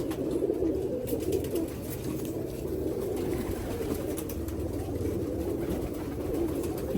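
Pigeons of a Teddy breed cooing in a loft, a steady, soft layer of low overlapping coos filling the background with no pauses.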